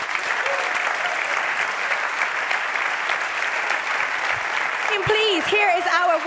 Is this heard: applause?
yes